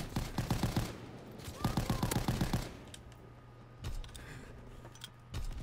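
AVS-36 rifle fires in rapid automatic bursts in Call of Duty WW2, with a sharp, dense run of shots, a short pause, another burst, then a few scattered single shots.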